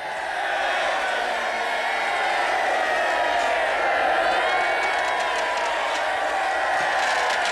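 A huge outdoor crowd of around 100,000 cheers and whoops in a broad, continuous wash of voices, steady and loud throughout.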